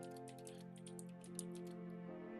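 Rapid typing on a computer keyboard clatters close to the microphone, the clicks thinning out toward the end over a steady tonal hum.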